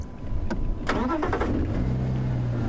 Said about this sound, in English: Let the car run for a little bit, let them get used to the noise of the engine.